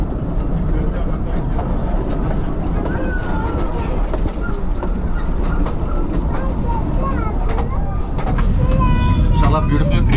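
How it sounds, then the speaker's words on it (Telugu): A train rumbles past near Ooty Lake with a steady, loud rolling roar and faint clattering; people talk over it, and a few high squeals and tones rise toward the end. "ఆ ముందే వెళ్తుంది చూడండి ట్రైన్"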